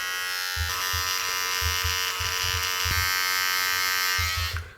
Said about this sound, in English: I have a Norelco beard trimmer.